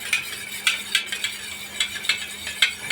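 A spoon whisks a tomato-sauce and egg-chili mixture in a bowl, giving quick, close clinking strokes against the sides in a steady uneven rhythm, with no voices.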